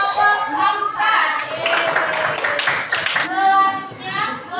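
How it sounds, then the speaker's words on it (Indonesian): A group of students claps for a team at a class presentation, a short burst of hand clapping in the middle with children's voices talking before and after. "Oke, tepuk tangan untuk kelompok 4."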